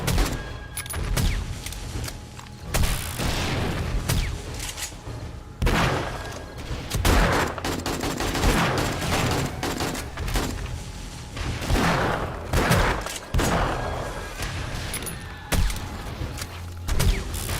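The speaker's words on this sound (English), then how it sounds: "Takes a few years for the grenades to explode, but they get there." Grenades going off in a video game, a series of muffled booms and rumbling blasts that recur every few seconds at moderate loudness, with no talk.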